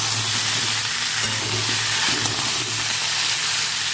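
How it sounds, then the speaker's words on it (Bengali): Potatoes and cauliflower frying in oil in a pan for a Bengali fish curry, a steady close sizzle with a low hum and light stirring scrapes throughout, no voices. "আলু ফুলকপি ভালো করে ভেজে নিচ্ছি"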